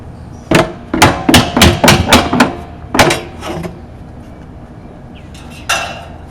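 A hoop is hammered down onto a wine barrel during barrel repair, a quick run of sharp metallic-wooden blows in close succession, then a few more spaced strikes and a final lone hit, close and clear.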